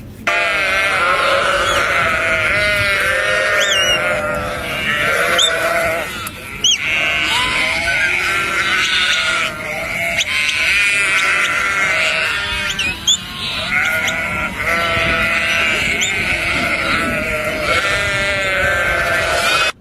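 A large flock of sheep, chased by a dog, bleats continuously, many overlapping calls forming a dense, loud chorus that never lets up.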